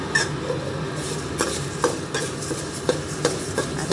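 Coriander seeds dry-roast in a pan while a spoon stirs them, giving a low sizzle with regular scraping strokes about every half second, near and moderately loud, with no voices.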